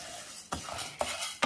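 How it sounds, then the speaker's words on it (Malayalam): A spoon stirs and scrapes toor dal and urad dal dry roasting in a pan over medium or low flame, with three soft scraping strokes over a faint rustling of the lentils. "ഇതൊക്കെ അരിഞ്ഞു പോകാതെ മീഡിയം ഫ്ലെയിമിലോ അതിലും കുറച്ചോ വെച്ച് ഡ്രൈ റോസ്റ്റ് ചെയ്തെടുത്താൽ മതി"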